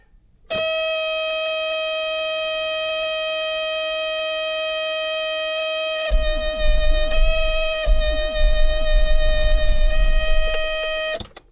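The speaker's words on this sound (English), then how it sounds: "Now you're going to hear some buzzing when I go to start the engine." A high, steady electronic brake warning buzzer in an Isuzu ELF van drones loudly, then the engine cranks and rumbles underneath it before everything cuts off.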